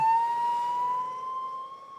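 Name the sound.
chorus of emergency sirens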